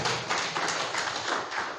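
A church congregation claps together in steady, dense applause that holds fairly loud and even for under two seconds, with no voices heard above it.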